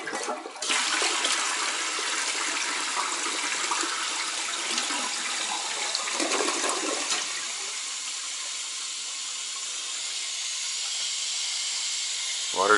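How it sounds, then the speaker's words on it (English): A newly hooked-up toilet in a renovation flushes with a loud rushing gush, then settles into a long steady hiss of the tank refilling through fresh water lines. "Okay, we got a flush."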